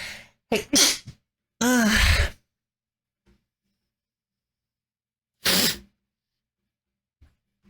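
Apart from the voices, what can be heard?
sneeze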